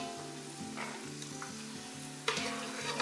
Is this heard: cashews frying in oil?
yes